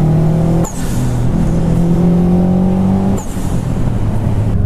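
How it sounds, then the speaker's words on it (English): Boosted Subaru Impreza 2.5 RS fitted with a loud HKS blow-off valve and STI engine swap, engine droning steadily under load with two brief sharp breaks where the valve vents, around one and three seconds. "This Impreza has the loud HKS blow-off valve"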